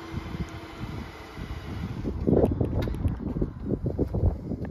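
A 2024 Chevrolet Traverse RS AWD with a 2.5-liter turbocharged four-cylinder starts by remote, cranking and catching about halfway through, then settling into a close, rumbling idle after a quiet lead-in.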